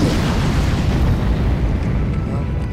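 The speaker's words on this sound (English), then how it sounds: "can cast a spell with Fireball" A fireball spell explodes in the fantasy strategy game Age of Wonders III, a loud, dense roaring blast that stays heavy and sustained for the whole stretch.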